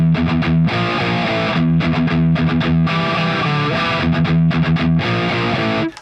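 A distorted electric guitar plays a gallop riff at a slow tempo. The palm-muted chugs repeat in a steady triplet rhythm, loud and close, with no voice.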